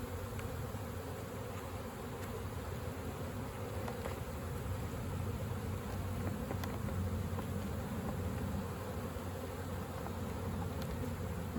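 Honeybees buzzing in a hive during a swarm check, a dense steady hum of many wings close up, continuous and even, with no voices.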